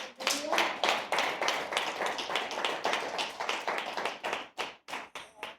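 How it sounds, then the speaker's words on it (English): A church congregation claps hands together in a lively, steady burst of many overlapping claps, loud and close, with a few voices calling out beneath it and the clapping thinning out toward the end. "Can we give the Lord a hand clap?"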